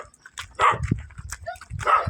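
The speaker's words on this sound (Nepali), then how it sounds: "कुकुर पो भुक्दैछ त हो बाँधेको छ ए बाँधेको रहेछ" A tied-up dog in a village barks in short, sharp bursts nearby, with brief yips and whimpering sounds between barks and quiet gaps in between.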